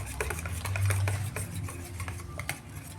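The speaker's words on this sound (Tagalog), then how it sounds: "paghaluin mabuti para hindi magbuo-buo at para mag-combine na po ang ating mga ingredients" A utensil stirs and scrapes dessert ingredients in a bowl, with repeated soft clinks and swishing strokes in an even rhythm, close and alone for a few seconds.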